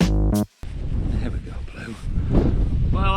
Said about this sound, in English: quite a wind coming through here